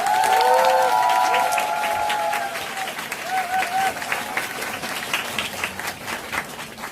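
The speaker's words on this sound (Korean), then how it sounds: "저의 외삼촌이자 스폰서이신 이기수 사장님 모실 때 큰 박수 부탁드리겠습니다." Sustained applause from a seated audience at an evening Nu Skin business gathering as a speaker is welcomed to the stage, dense clapping filling the room with a few brief cheers and murmurs early on, then thinning into scattered claps.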